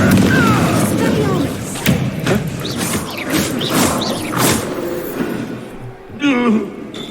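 A Confringo spell fired in Hogwarts Legacy bursts as a series of close thumps and whooshing blasts, with a bright impact crackle near the end, amid game ambience.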